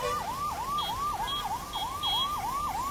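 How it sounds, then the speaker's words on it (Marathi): Loud and near, a fire engine siren repeats quick rising sweeps in an even rhythm beside a Badlapur East highway where a chemical sewage line has burst, with a low traffic hum underneath. "अग्निशमन दलाची गाडी इथे आलेली आहे"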